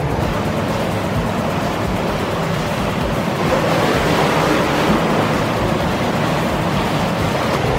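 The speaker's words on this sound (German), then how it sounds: "Hanna wird angesprudelt." Pool water jets churn and bubble in a swimming pool, a steady, loud, continuous rush of water with no break across the whole stretch.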